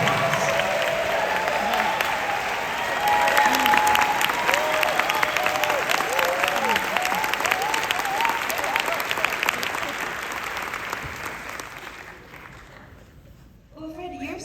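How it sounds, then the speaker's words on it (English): Sustained applause from an audience at a film Q&A, honoring the movie's team, dense steady clapping with some whoops and cheers mixed in, fading toward the end. "So, give everybody a round of applause."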